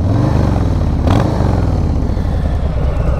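A Harley-Davidson Street Bob motorcycle with an opened exhaust flap revs loudly and close up, a deep rumbling throb that swells briefly and then holds a steady pulsing idle throughout.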